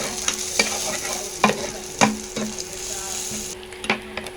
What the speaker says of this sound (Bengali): আমাদের পেঁয়াজ কাঁচামরিচ ভাজা একদম প্রায় হয়ে এসেছে